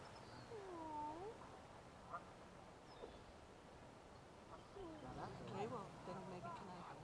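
A cat meows outdoors near a trail, a few faint, drawn-out calls early and again later over quiet background hiss.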